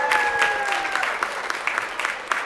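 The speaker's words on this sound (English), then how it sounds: "Round of applause." Applause from the audience at a city commission meeting, a dense steady clapping that holds for a couple of seconds and then thins, with a voice briefly audible at the start.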